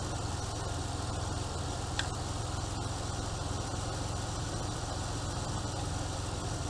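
A Chevy Impala engine idling smoothly and steadily, a continuous even rumble with a constant low hum, close and alone with no talking.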